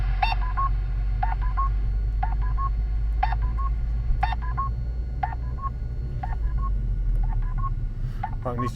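A phone dials out to a police officer, beeping a steady sequence of short two-tone dialing tones roughly once a second over a constant low hum.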